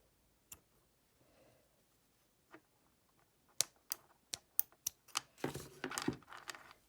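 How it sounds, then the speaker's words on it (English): Sharp snips cutting the extra ends of elastic cord on a child's pony-bead bracelet, a couple of isolated clicks followed by a rapid run of crisp ticks and a brief rustle, close and quiet with no talking. "I'm going to go ahead and trim these extra ends."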